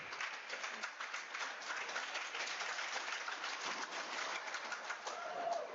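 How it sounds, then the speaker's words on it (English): Crowd at a collegiate racquetball championship doing the Oregon signature clap, a dense, steady patter of many hands clapping together, distant and faint throughout. "The Oregon signature clap"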